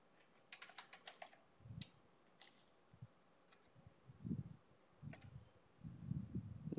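Keys tapped on a computer keyboard while a password is entered during VMware Horizon server configuration, short quiet bursts of clicks scattered across several seconds with soft low thumps between them.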